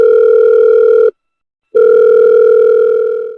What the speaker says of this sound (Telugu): ఒకసారి కాల్ చేస్తాను, చేయండి మేడం.